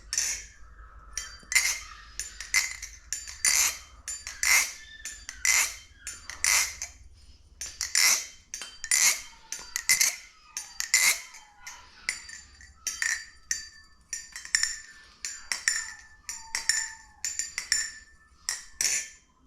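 Typing on a Machinewise Prysma Pro mechanical keyboard, lubed switches giving crisp clacks in quick bursts of keystrokes with short pauses, close and clear, with no talk.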